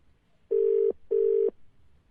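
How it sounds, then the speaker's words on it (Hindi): A telephone call rings back through the handset: two evenly spaced, steady electronic ring tones, each about half a second long and separated by a short gap, with no talk over them. "दोबारा रिंग जा रही है, देखते हैं।"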